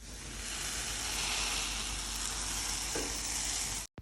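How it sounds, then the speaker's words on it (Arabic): Tasha topping for Syrian shishbarak fries in hot oil, a loud dense sizzle at close range that runs steadily, then stops abruptly at the end. "اسمعوا صوت الطشة."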